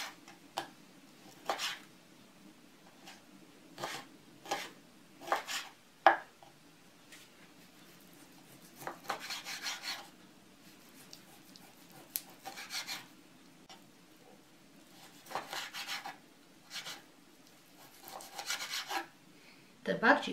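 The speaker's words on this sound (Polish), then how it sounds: "Teraz pokroję boczek. Pokroję go w dość grubą kostkę." A knife cuts bacon into thick cubes on a board in a series of quiet rasping strokes with short clicks, coming in irregular bursts separated by pauses.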